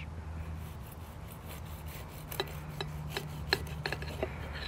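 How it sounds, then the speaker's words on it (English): A knife saws through a crispy Nashville hot chicken sandwich, giving rasping crunches and sharp crackles that grow more frequent toward the end, close and alone over a low steady hum. "Let's see if we can hear it when we cut it."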